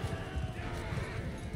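Horse hooves clopping in Mount & Blade 2 battle gameplay, a low rhythmic patter of hoofbeats with a brief whinny, set under game sounds and a steady background hum.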